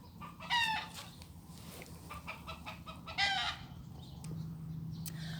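Chickens cluck and a rooster crows in a backyard during dog training, several short bird calls spread through the clip over a low steady hum, with no talking.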